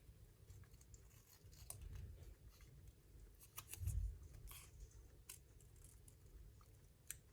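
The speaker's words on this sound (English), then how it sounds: "Trim it off a little bit." Scissors trimming paper for a B6 Stalogy planner setup, giving faint close snips and crisp crinkles spread through quiet handling, with no speech.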